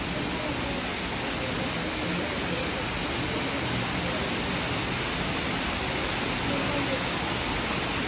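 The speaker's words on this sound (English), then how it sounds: "We made it to the waterfall." Palo Maria waterfall near Puerto Vallarta, Mexico, pours as a loud, steady, broadband roar that fills the whole stretch without pause, with no talk over it.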